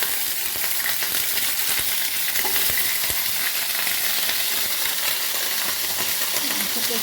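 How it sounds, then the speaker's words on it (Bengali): Potatoes fry in hot oil in a frying pan, making a dense, even sizzle that holds steady for several seconds, with occasional faint stirring ticks; close and fairly loud, no talking. "এবার আলুগুলোকে একটু ভেজে নেবো, একটু গরম হোক"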